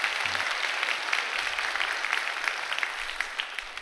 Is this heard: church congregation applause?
yes